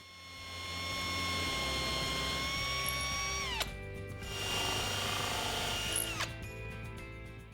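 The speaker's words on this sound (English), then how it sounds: "mark where I'll need to pre-drill and countersink holes for the screws" A power drill whines as it pre-drills and countersinks screw holes in a wooden window frame, two sustained high-pitched runs, each ending in a sharp drop as the bit stops, up close with no talking.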